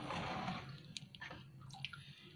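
Water poured onto a potted caladium until it drains from the pot, a broad wet splashing rush at first, then softer trickles and drips close by.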